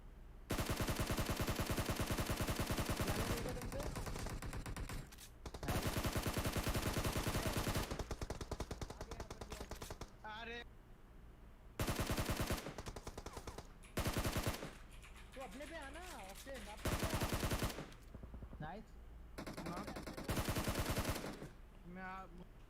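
Automatic gunfire in the Battlegrounds Mobile India video game, long loud sprays of rapid shots broken by short pauses, with a commentator's voice heard during the quieter gaps.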